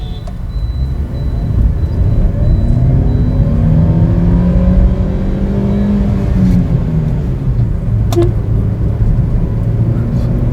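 A 2014 Hyundai Xcent car pulls away from a traffic signal, its engine note rising steadily as it accelerates, loud and close from inside the cabin, with road and wind noise beneath.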